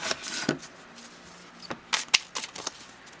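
Gilded Reverie Lenormand cards being shuffled by hand, a scattered series of light slaps and riffles, close and fairly soft with gaps between them, no talk.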